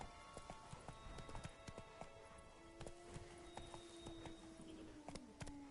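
Horse hooves clip-clopping at a steady walking rhythm while riding in The Witcher 3: Blood and Wine, a quiet, even series of hoof knocks with a faint tonal hum under them.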